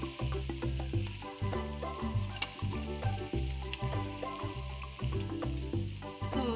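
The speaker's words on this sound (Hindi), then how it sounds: "तो चलिए अब इस प्याजी बड़े को हम दूसरे तरफ से भी सेक लेंगे।" Onion fritters (pyazi bada) fry in hot oil with a steady, dense sizzle and bubbling crackle, close and continuous, partly masked by a rhythmic musical backing with no talk.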